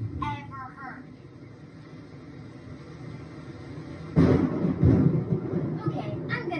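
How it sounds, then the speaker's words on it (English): Loud thunder during a storm opens with a low rumble, then a heavy crack and rolling boom about two-thirds through, with people talking over the storm. "I can't believe how bad this storm is. I know, this is the loudest thunder I've ever heard."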